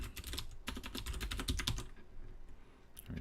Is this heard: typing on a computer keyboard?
yes